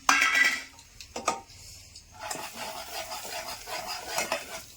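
Three dried red chilies drop into hot oil for a tempering, with a few sharp utensil clatters first, then a steady close crackling sizzle that carries on to the end, with no talk.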